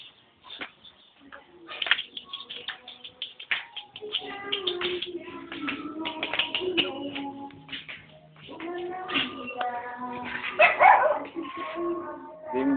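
A dog named Lucky yips, barks and whimpers in uneven bursts close by, with some quiet speech mixed in.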